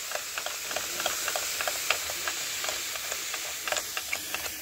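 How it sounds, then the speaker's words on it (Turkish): A steam iron being descaled, with its steam button pressed again and again, gives a steady hiss broken by short sputtering puffs that repeat in an uneven rhythm, close and moderately loud with no talking. "Sürekli buhar tuşuna basıyoruz"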